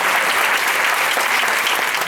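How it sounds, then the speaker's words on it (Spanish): Big, sustained applause from a crowd for Manolo at a Pilares 2024 event in Puerto de Sagunto, Valencia, many hands clapping evenly and loudly throughout. "Manolo, aplauso grande."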